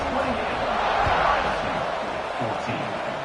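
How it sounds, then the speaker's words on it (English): A college football stadium crowd buzzes after an extra point at an Ohio State game, a dense loud murmur with scattered shouts under a commentator's voice. "this crowd is buzzing after that last score"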